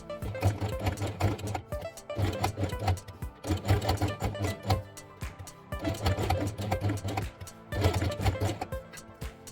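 Felt stitched along its edge with red thread for a Christmas train quiet book page, heard as bursts of rapid, close mechanical stitching, about four runs separated by short pauses, with no talking.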